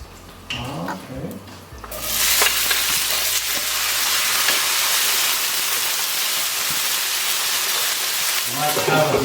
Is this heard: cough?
no